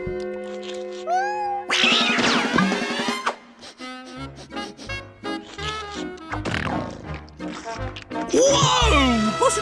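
A cartoon cat meows in short, expressive cries amid busy animated music and sound effects, with a character's voice speaking in between.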